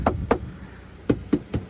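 Knuckles rap on the thick, solid door of a 2015 Volvo XC70 T6 Platinum: five close, dull knocks, two quick ones and then three, with quiet between them and no talking.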